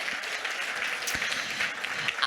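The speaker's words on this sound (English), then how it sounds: "So a round of applause for our care team." Audience applause at a UCLA alumnae conference closing keynote, steady clapping from a crowd in a hall, moderately loud and continuous with a few sharper claps standing out.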